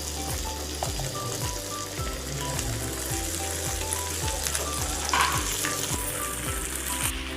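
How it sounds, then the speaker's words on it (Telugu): Cut okra fries in a kadai with a constant dense sizzle, while low regular thumps of stirring repeat through it, close and steady, with no speech. "ఇప్పుడు మనం కట్ చేసుకున్న బెండకాయలన్నీ కడాయిలో వేసుకోవాలి"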